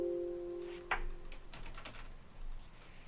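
Keystrokes on a computer keyboard during software editing work, one sharp tap followed by a scatter of softer, quieter key clicks against a steady low hum.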